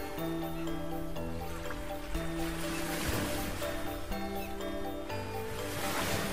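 Large ocean waves surge and wash in a continuous steady roar at the sea off Nusa Tenggara Barat, blended under sustained background music throughout.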